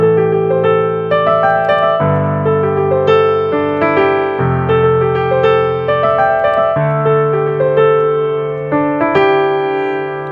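Solo piano plays the melody of a song, bright repeated melodic phrases over sustained low chords, clear and loud.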